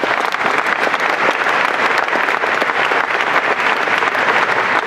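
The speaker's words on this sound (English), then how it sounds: "Let's give him a round of applause." A large conference audience at PubCon 2013 applauds a sponsor in a steady, dense roar of clapping that holds at full strength for the whole stretch, with no voices on top.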